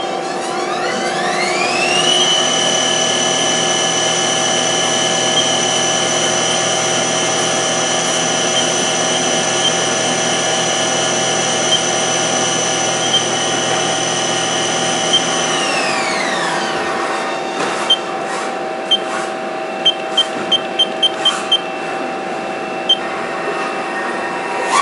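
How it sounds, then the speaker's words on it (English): A lathe turns a part while an OD grooving tool cuts an O-ring groove. A loud, steady machine whine holds high and then winds down, followed by a scattering of small ticks over a low hum. "So now we're putting in a OD grooving tool. And this is for an O-ring landing"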